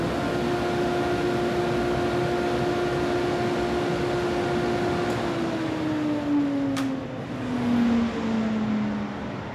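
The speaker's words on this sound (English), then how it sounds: "We can just suck it into the cyclone." Clear Vue cyclone dust collector running in a woodworking shop, a steady loud whooshing roar with a droning tone that dips in pitch as debris is sucked through the Nordfab ducting, with brief rattles near the end.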